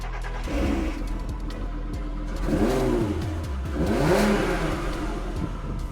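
An Audi TT car drives on the road toward its MOT retest, its mid-pitched engine rising and falling through two clear revving surges over a steady road rumble.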